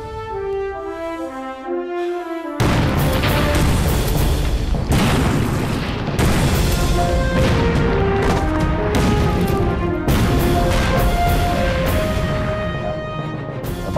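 Heavy artillery shelling in a wartime drama about the anti-Japanese war: after a quiet musical opening, repeated loud booming blasts and crashing impacts pound in rapid succession under dramatic music.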